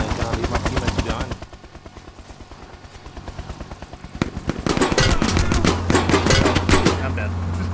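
Rapid automatic gunfire in the first-person shooter Exfil, loud and continuous, over a steady helicopter-like rotor drone. The shooting intensifies into dense, close bursts toward the end.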